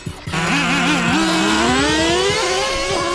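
A Traxxas T-Maxx 3.3 nitro RC truck engine screams close by, its high whine rising and wavering through repeated revs as the truck pulls wheelies.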